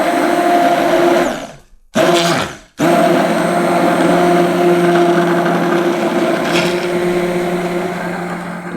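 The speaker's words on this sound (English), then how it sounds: "now I've got a hand blender that I use for making soap" A hand blender whirs loudly and steadily through cooling soap, stopping briefly twice in quick succession before running again continuously.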